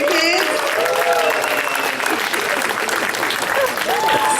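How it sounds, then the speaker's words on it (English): Crowd applause for a group of performers and children at a school dance performance, steady clapping mixed with cheering and whistles, with voices chattering over it throughout. "Can I get a round of applause for the Aninit and our kids?"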